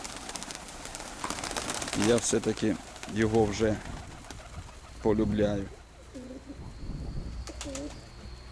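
Soft, low pigeon coos repeat in short bursts, interleaved with a person speaking nearby.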